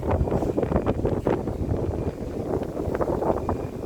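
Strong wind on a third-floor building level buffets the microphone in a steady, loud rumbling roar with gusty surges throughout, no voices.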